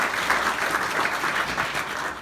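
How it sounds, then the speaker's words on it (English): A school audience applauds a baseball coach being introduced. The clapping is full and steady, a continuous wash of many hands throughout with no talk over it. "Give him a round of applause"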